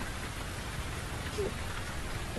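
Steady rain falling in an outdoor scene of the video game The Invisible Hours, a constant soft hiss that fills the whole clip with no other clear sounds.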